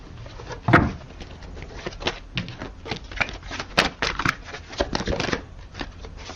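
Tarot cards being shuffled and drawn, a dense run of quick papery riffles and flicks with a few sharper snaps, close and moderately loud, with no talking.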